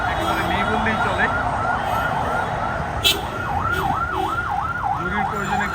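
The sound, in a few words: ambulance siren passing through Farmgate blockade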